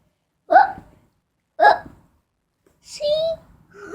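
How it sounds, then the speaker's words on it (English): A cartoon character hiccups three times at about one-second intervals, each a short sharp vocal gulp standing alone in otherwise quiet surroundings. "This means only one thing. I have hiccups."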